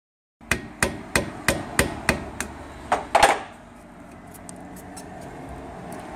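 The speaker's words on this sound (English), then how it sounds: "Sometimes you need to actually hammer it to cut it." A sharp blade is hammered through a rubber front wishbone bushing on a Jeep Grand Cherokee: about nine crisp, evenly spaced metallic blows that speed up slightly near the end, followed by faint workshop rustling.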